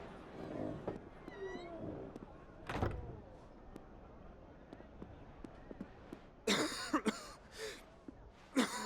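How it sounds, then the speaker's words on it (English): A Final Fantasy XVI character gives a few coughs and throat-clearing sounds, spaced out and moderately close, with soft background noises and brief louder bursts near the end. "You know it's him because he's coughing."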